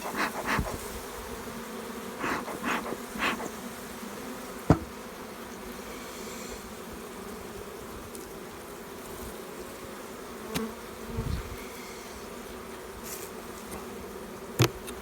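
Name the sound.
bees buzzing in an opened beehive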